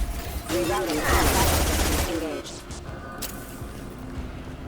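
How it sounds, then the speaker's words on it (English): Rapid bursts of automatic gunfire from a Mass Effect 2 firefight, loud and dense for a couple of seconds before dropping to a lower rumble, with voices mixed in. "Let's just gun them down as much as possible."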